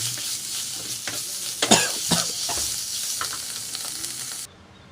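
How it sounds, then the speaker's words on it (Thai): Pork with chamuang leaves and shrimp paste being stir-fried in a pan, a steady sizzle broken by scraping stirs and a few louder clanks of the utensil, close and alone without talk, cutting off abruptly at the end. "เราจะผัดให้มันเข้ากัน"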